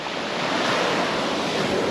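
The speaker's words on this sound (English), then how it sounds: "It's a bit windy here at Smalley's" Strong coastal wind at Cape Hillsborough, Australia, roars across the microphone in a steady, broadband rush, with a surf-like wash underneath and no voices.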